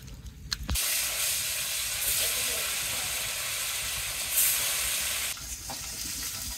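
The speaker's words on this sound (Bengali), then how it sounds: "যাক মাছ ভাজা শেষ হয়ে গেল" Fish fries in a pan with a loud, dense, steady sizzle that starts abruptly, holds for several seconds with a slight swell near the end, then drops back to a quieter background hiss.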